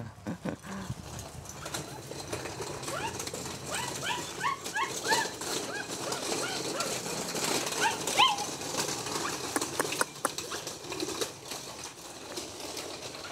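Doberman dogs move around outdoors, with the mother dog running along, making whimpers, scuffling and yelps at close range over steady background noise, without talk.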